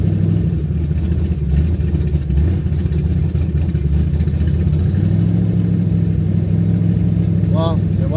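A twin turbo car engine idles high on a MicroSquirt/MegaSquirt tune, a steady low rumble running throughout with slight rises, and a brief faint whine near the end.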